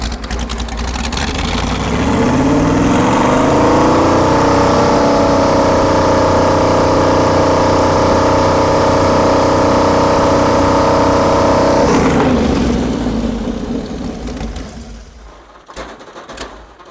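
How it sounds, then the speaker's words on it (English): A Ford Pinto wagon engine revved up, a loud close roar that climbs in pitch over a few seconds, holds steady at high revs, then drops away and fades to quiet. "Go ahead and rev it up."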